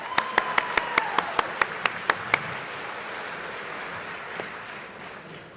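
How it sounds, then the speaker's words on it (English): Applause at a sheriff's office annual awards ceremony: a soft wash of crowd clapping with a series of sharp, evenly spaced claps standing out near the start, fading into quieter room tone. "Let's give them another round of applause."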